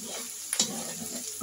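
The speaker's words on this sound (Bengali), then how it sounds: "দিয়ে দিচ্ছি একটা ডিম।" An egg added to a hot frying pan sizzles with a brief crackling burst, then a steady soft hiss of frying continues close by.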